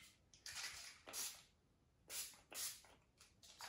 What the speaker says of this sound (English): What you want to do is obviously just spray it